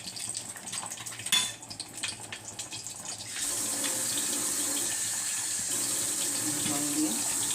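Water pours steadily from a tap into a pan while mustard hilsa fish is being cooked, a continuous close splashing rush after some clinking and handling sounds.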